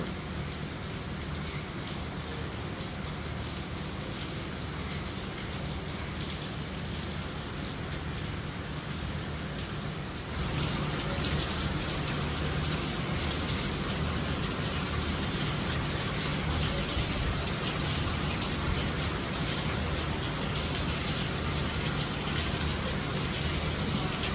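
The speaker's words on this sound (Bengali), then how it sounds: "বৃষ্টি একবারে রহমত স্বরূপ ঝরে পড়ছে" Heavy rain pours steadily onto a rooftop, a dense unbroken hiss that grows slightly louder partway through and continues without pause.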